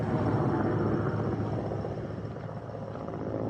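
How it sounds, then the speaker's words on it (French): Helicopter flying overhead above a refugee area, a steady loud rotor rumble with dense broadband wash that holds throughout without pause. "S'ils sont quotidiennement survolés par des hélicoptères"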